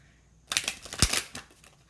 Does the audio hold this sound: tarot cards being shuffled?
yes